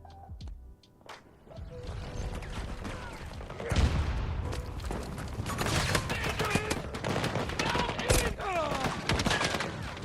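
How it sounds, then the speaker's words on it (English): Video game gunfire from an auto shotgun and a pistol, with dense rapid bursts of shots and booms continuing almost without pause, loud and close, over a busy battle background. "Just sit outside the spawn point and shoot bullets into it."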